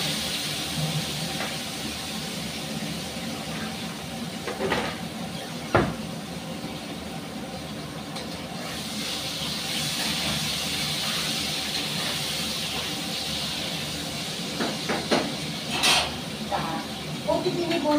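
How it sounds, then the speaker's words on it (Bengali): Potato, pointed gourd and tomato fry in hot oil with a steady close hiss and sizzle, broken by a few sharp clatters of a utensil against the pan. "এবার এটাকে খুব ভালো করে তেলে ভেজে নেব"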